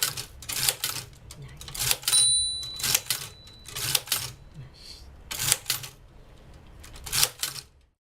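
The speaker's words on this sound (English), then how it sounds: "a video that I took which shows someone using this Chinese character Japanese typewriter" A Japanese typewriter with Chinese characters is operated in bursts of sharp mechanical clacks and clunks, with a short bell-like ring and pauses between strokes, close and distinct.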